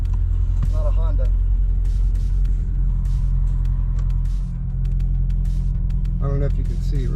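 A supercharged Chevrolet Corvette with a manual clutch cruising on the highway, its deep engine rumble and road drone steady and loud inside the cabin, with a couple of faint voices briefly over it.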